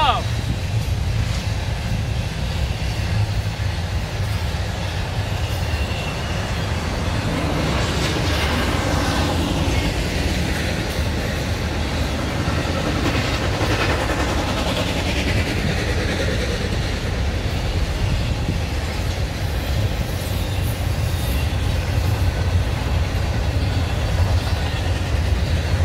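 A Norfolk Southern 21Z freight train, led by Ferromex SD70ACE locomotive 4080 with a smoking Dash 9 trailing, rolls past with a steady low rumble and rising, fading wheel noise and squeal, wind buffeting the microphone throughout.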